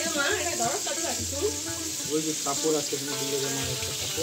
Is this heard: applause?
no